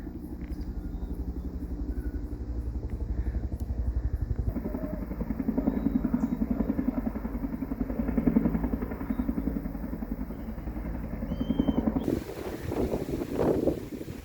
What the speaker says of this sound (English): There's a helicopter that's coming in.